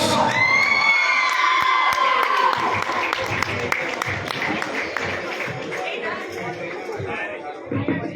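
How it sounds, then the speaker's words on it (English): Crowd at a national throwball championship prize ceremony cheering, shouting and clapping for the winning boys' team, lively and dense, with children's voices rising above the applause. "Give a big round of applause to the Karnataka boys."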